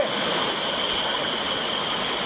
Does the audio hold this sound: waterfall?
yes